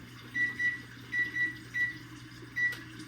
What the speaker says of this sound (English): the buzzer just went off